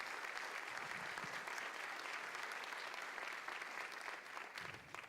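An audience at a benefit music show gives warm, continuous applause for the performers and pianist, a soft, slightly distant patter of many hands that tapers near the end.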